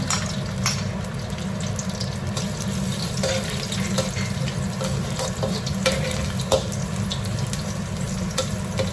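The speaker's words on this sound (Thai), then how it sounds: "เราก็จะเอาลงผัดเลยนะคะ" Okra being stir-fried in a pan, a steady close sizzle with scattered clinks and scrapes of stirring, no talking.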